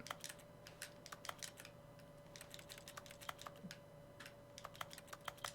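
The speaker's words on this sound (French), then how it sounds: "pourquoi ça fait des bruits de clavier où que je regarde," Keyboard typing in the video game The Stanley Parable: quiet, irregular key clicks tapping away at a steady pace over a faint constant hum, with no voices.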